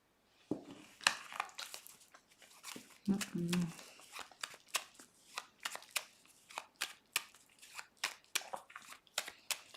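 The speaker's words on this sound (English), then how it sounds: "I'm going to shuffle and focus on that question" Soft crisp riffling and tapping of tarot cards, repeated in quick bursts close by, with a brief murmur of talk partway through.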